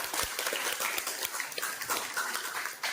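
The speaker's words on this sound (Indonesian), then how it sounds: "Beri aplaus untuk kelompok kita." An audience claps for a student group after their classroom presentation, steady dense applause filling the room for the whole stretch without a break.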